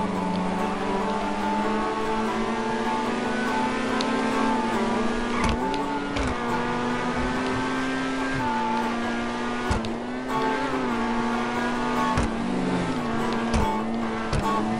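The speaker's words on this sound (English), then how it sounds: "Fastest supercars in the game, and they can just keep coming after me" Supercars driving in a Grand Theft Auto game, with a loud, sustained engine drone that rises and drops through gear shifts. The engine roars steadily up close, with no voices.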